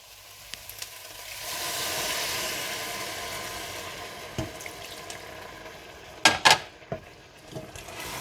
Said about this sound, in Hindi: इसमें इतना पानी डाल दें कि जिसमें गोश्त अच्छा सा गल जाए